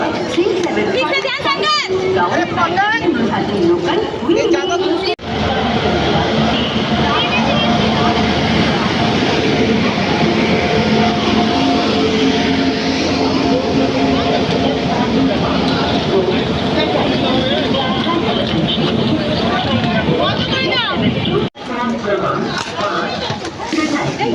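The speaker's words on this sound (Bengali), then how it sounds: "ওই দেখো ট্রেন ঢুকে গেছে অলরেডি" A train pulls into a station platform with a loud, steady rumble and roar, layered with constant crowd chatter and voices close by, and brief dips in the noise near five and twenty-one seconds.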